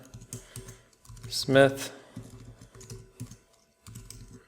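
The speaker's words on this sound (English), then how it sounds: "So I'm going to type in Adam" A name is typed on a computer keyboard in quick bursts of close, light key clicks with short pauses, while a voice speaks briefly in the middle.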